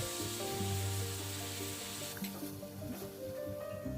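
Noodles with sweet soy sauce stirred around a pan, a steady scraping, sizzling rub that runs continuously at close range with no voices over it.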